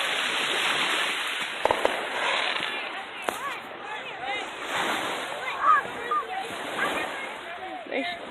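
Fourth of July fireworks over Cape Cod burst in repeated distant booms and crackles at night, with people's voices in the background throughout.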